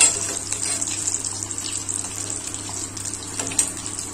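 Anchovies frying in hot oil for nethili chilli 65, a steady close sizzle and bubbling hiss that runs through the whole stretch with small crackles and pops.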